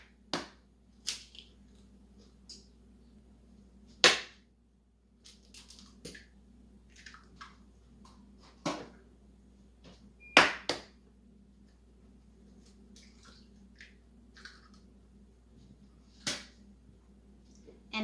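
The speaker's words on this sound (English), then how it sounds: "Crack in the 3 eggs." Eggs cracked one after another into a light, fluffy cake pop batter, giving a few sharp, brief cracks and taps scattered through an otherwise quiet kitchen with a low steady hum.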